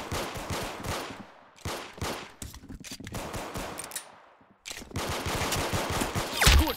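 Gunfire in a Roblox game cracks out in rapid bursts, loud and close, with volleys of shots broken by brief gaps and one near-silent pause before the firing resumes.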